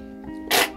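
A single quick sneeze bursts out over a steady humming background tone.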